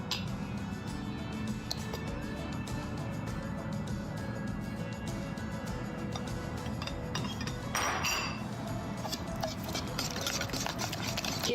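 A whisk or spoon stirs thin crepe batter of oat milk and two eggs in a bowl, making a steady patter of soft clinks and scrapes close by, with a brief brighter rattle near the end.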